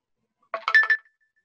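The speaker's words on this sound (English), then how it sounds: "Sorry, my phone making noises." A mobile phone ringtone plays a short melodic burst of a few bright electronic tones lasting about half a second, loud and close in an otherwise quiet indoor moment.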